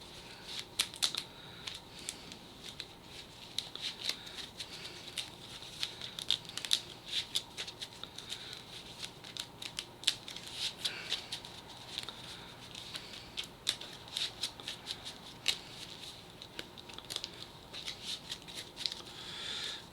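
A deck of game cards shuffled during a tabletop card game, heard up close as soft repeated flicking and riffling clicks in an uneven rhythm over a quiet room.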